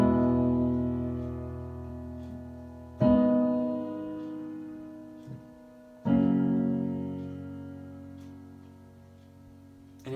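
Piano chords played slowly, each struck firmly and left to ring and decay for about three seconds before the next, four chord strikes in all with a soft extra note between, alone and close.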